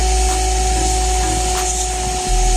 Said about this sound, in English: With the vacuum cleaner turned on, cover a good amount of drain pipe or hose.